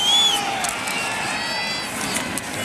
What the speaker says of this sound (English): Crowd going to let the officials hear it